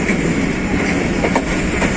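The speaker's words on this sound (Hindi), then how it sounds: "six down Pakistan express 2 minute की ताख़ीर के साथ सूखे की रेलवे स्टेशन पे पहुंच रही है" The Pakistan Express passenger train pulls into a railway station in Pakistan. A loud, steady roar of rolling wagons carries faint clickety-clack and wheel squeal, heard close with no voices over it.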